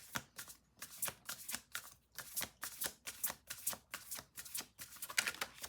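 Rapid, crisp riffling of oracle cards repeated in quick bursts, a regular pattern of flicks and pauses close to the listener.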